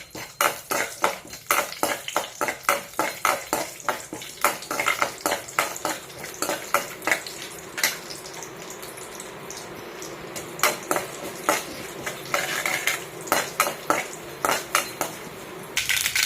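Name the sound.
mustard seeds spluttering in hot oil in a pan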